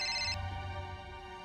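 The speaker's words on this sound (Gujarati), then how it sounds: "અત્યારે કોણ ફોન કરે છે આ કામ ટાણે?" A telephone ringtone plays briefly in a home at the start, then cuts off and leaves only a quiet room hum.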